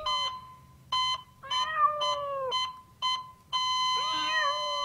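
A cat meows repeatedly in a psychological horror video game, several sharp, tonal, closely spaced calls, some drawn out, with a longer wavering meow near the end.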